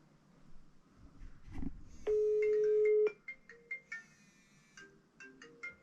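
A telephone ringing tone plays during a call: one sustained electronic tone of about a second, followed by a series of shorter melodic beeps, with faint room noise and no speech.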